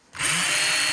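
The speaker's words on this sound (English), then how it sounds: "Now this drill works, and this one works." A cordless power drill in a workshop spins up sharply and runs at a steady high whine, loud and close, with no talking over it.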